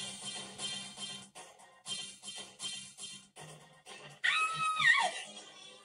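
A woman screams in the video game Thousand Arms, a sudden high wavering cry that rises and falls over steady game music near the end.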